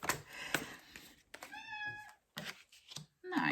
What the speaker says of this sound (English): That'll be my cat.